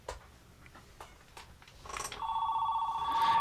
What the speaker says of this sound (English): we're going to hear the phone this time, I believe, if it does ring